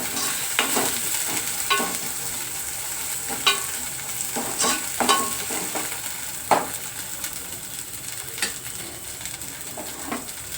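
Ginger and garlic fry in oil for a prawn and drumstick curry, giving a constant loud sizzle broken by repeated spatula scrapes and knocks against the pan at an irregular pace, with no talking.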